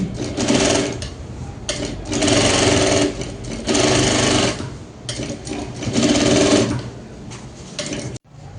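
Sewing machine stitching a seam on a bag, loud close runs of fast mechanical chatter in bursts of a second or two, with brief slowdowns and pauses before a final stop.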